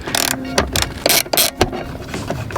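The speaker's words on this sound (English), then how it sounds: "You can't get a gun in there, so you gotta get a breaker bar thingy." Breaker bar clicking and ratcheting on a 14 mm bolt inside a Kia Stinger, a series of sharp, close metallic clicks and short ratchet bursts in an uneven rhythm, with no speech.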